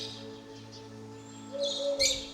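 A black thrush gives a short, faint call over a steady low hum, then a brighter burst of chirping notes near the end, in a garden.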